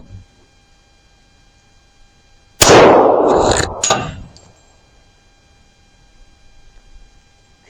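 A single loud .40-caliber gunshot, a 180-grain jacketed hollow point fired at forty-year-old body armor, with a sharp blast and a rattling decay of about a second over a steady electrical hum.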